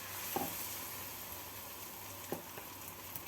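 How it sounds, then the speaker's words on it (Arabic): Battered eggplant slices fry in hot oil with a faint, even sizzle and a few soft pops, quiet and without voices. "وكنحطوها في الزيت تكون حاميه تقلى"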